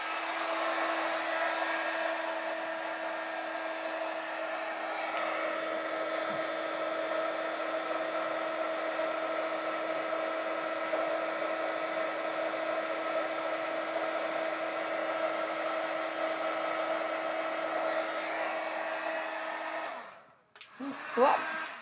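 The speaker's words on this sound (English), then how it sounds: "Where are you, my little heat gun? There you are." Heat gun running for heat embossing on a stamped paper craft project, a steady loud blowing whine with a constant hum that continues for about twenty seconds before cutting off abruptly, with no talking.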